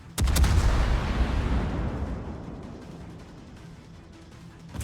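Warship guns firing in World of Warships, one heavy booming salvo cracking out near and loud, then rolling and decaying into a long rumbling tail without speech.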